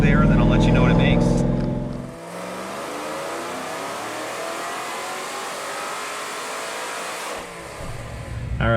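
A Ford GT500 with a stock Trinity supercharger revs hard on a dyno, a loud engine roar that climbs steadily through a long pull and then drops off before revving again, with voices talking at the start.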